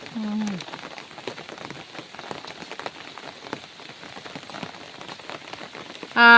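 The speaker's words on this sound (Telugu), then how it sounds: "రోజు వర్షం వస్తుంది" Rain in Maredumilli forest during the rainy season, many close drops pattering irregularly on surfaces, light and steady, with brief voices at the start and end.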